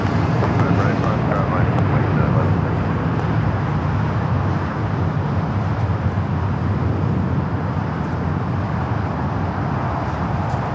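A Frontier airliner rolling for takeoff on runway 25 right at Los Angeles airport, a loud continuous broadband jet roar heard from nearby, steady throughout with a slight fade toward the end, with radio talk over it.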